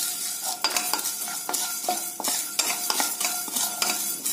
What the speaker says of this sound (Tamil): இந்த மல்லி சீரகம் எல்லாம் நல்ல வாசனை வர மாதிரி ட்ரையா வறுத்துக்கலாங்க.